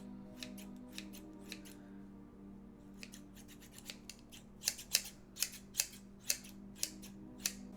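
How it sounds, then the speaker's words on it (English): Large scissors snip hair in a string of crisp, close cuts, sparse at first and then faster and louder in quick succession, with no talking. "Got some big scissors."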